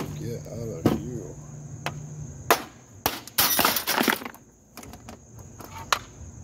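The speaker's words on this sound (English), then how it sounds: "When in doubt, hit it with a fucking hammer." Hammer blows land on a Dodge 537-C automatic transmission during a teardown, several sharp metallic strikes and clanks spaced irregularly, with a burst of rattling impacts in the middle and a steady high tone underneath.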